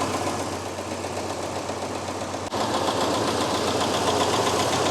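A 1976 Chevrolet C10 pickup engine idles steadily after a cold start that follows a coolant flush, a loud, continuous broadband rumble with a faint knocking texture and no talk.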